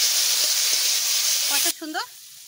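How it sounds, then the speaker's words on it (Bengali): Potatoes frying in oil hiss and sizzle steadily and close up for under two seconds, then the frying sound cuts away and a voice is briefly heard. "দুটো আলু ভাজা করতেছি, এটা কতটা আলু ভাজা হয়েছে তাই দেখো"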